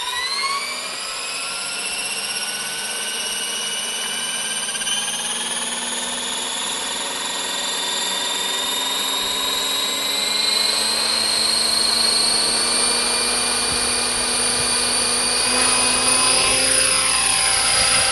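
Radio-controlled helicopter spooling up toward a hover, its rotor and motor whine rising steadily in pitch and loudness over many seconds, close by and continuous with no talking.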